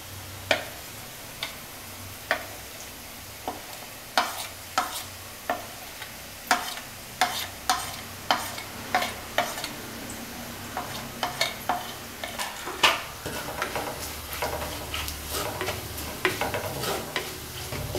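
Coriander powder stirred and sautéed in a pan for a spicy Kerala-style tuna curry: a soft steady sizzle with repeated sharp ticks of a spoon scraping the pan, close and fairly quiet, no talking.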